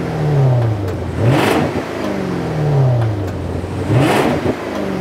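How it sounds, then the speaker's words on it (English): A Range Rover V8 engine revs twice in smooth rising sweeps, a deep, velvety rumble that swells and settles back, close and fairly loud with no talking. "You get that lovely V8 rumble, which is not obtrusive in any way on this car."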